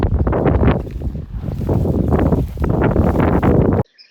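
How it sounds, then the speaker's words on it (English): Strong gusting wind on a Texas alfalfa hay field buffets the microphone with heavy low rumbling roars for several seconds, then cuts off abruptly. "It's super windy"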